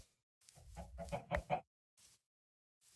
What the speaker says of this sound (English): There's so many goddamn chickens in this area.